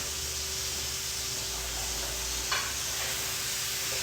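Wagyu beef burger patty, close to a pound, frying in a pan with a crust forming; a steady close sizzle and hiss holds throughout with one brief crackle partway.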